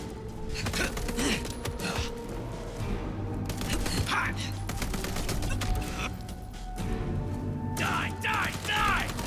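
Bursts of rapid gunfire ring out during combat in the video game Vampire the Masquerade Bloodlines 2. The shots crackle in clusters and volleys over mechanical clatter, with a voice talking throughout.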